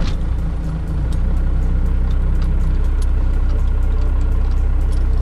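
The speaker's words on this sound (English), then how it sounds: "we're gonna get to starting up the truck here" A Cummins diesel pickup truck idles steadily at close range with a deep, even low rumble and a faint rhythmic ticking above it, constant throughout with no voices.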